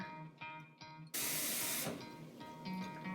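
Cold water gushes from a tap into a bowl holding a little white vinegar for washing chicken wings, a short loud hissing rush of under a second amid quieter kitchen clatter.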